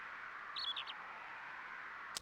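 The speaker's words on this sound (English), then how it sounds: "The only noises you hear are birds" Birds chirping in a quiet golf course setting of the PlayStation game Hot Shots Golf, a brief faint twittering call over a soft steady wind-like ambience, followed by a single sharp click.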